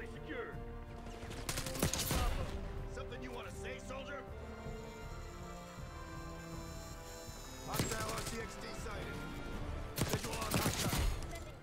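Rapid bursts of JACKAL PDW submachine gunfire in Black Ops 6, loud clusters of shots near 2, 8 and 11 seconds over a steady game soundtrack with someone talking throughout.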